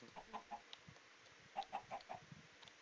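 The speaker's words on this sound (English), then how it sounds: "Chicken? Can we get some chicken?" A Minecraft chicken clucks in a few soft, short bursts: a pair early on and a cluster of three or four later, faint against a quiet background with no talking.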